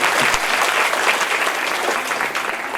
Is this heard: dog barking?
no